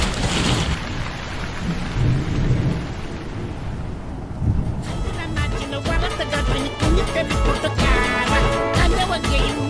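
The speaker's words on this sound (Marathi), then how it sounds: "शेठ संदूक बंद करू का, पाऊस पडतोय बघा" Steady heavy rain pours down while thunder rumbles low and deep, the downpour loud and continuous throughout with dense pattering on nearby surfaces.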